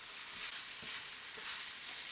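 Pork belly and shiitake mushrooms cook in a pot for kimchi jjigae, giving a faint, steady hiss of sizzling with a few soft stirring bumps, close but quiet and without talking.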